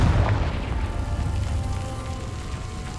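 A deep, rumbling fire-spell explosion in Hogwarts Legacy. A boom hits loud at the start, then a low roar trails off and holds steady for about three seconds.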